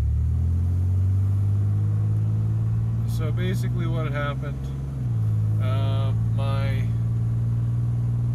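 A truck engine running rough, a loud, close low drone that shifts in pitch partway through, with someone talking over it.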